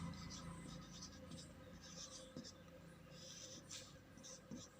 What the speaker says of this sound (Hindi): तो यहाँ लिख सकते हैं